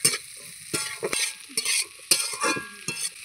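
Chopped capsicum being stir-fried with minced garlic in oil left from frying chicken pakoras, bursts of sizzling and spatula scraping in quick uneven strokes.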